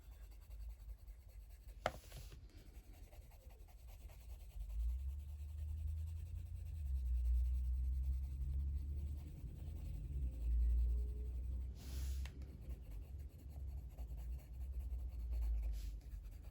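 A beige red coloured pencil burnishes over skin tones in an illustration, producing a steady, close, low scratchy rubbing on paper that continues for a long stretch, with a couple of brief knocks.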